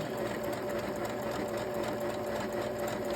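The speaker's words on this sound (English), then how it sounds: "We're just gonna sew and we're not gonna backstitch." Sewing machine stitching fabric in a straight run without backstitching, a close, continuous, even mechanical whir that runs steadily throughout with no talking.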